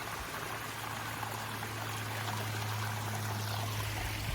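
Water flows steadily at Madandabbi waterfall near Kakkabe, a low continuous rushing and trickling close by with little variation, and no voices.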